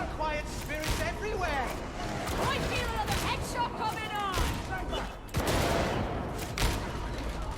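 Dense bursts of gunfire crackle through a combat scene in Warhammer 40,000: Darktide, rapid shots overlapping with booms, while a voice talks over the action almost throughout.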